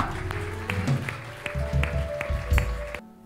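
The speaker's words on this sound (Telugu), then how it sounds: "గట్టిగా చప్పట్లు కొడదాం." A church congregation claps loudly together in a dense, sustained burst that cuts off abruptly at the end, with a steady tonal hum underneath.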